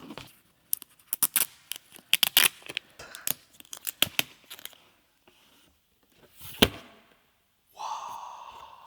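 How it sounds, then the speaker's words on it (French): Sharp snips and tearing crackles of packaging come in quick irregular bursts as an Xbox Series X console box is opened up close, then a few pauses and a softer rustling slide at the end. "On va déballer donc du coup la Xbox Series X."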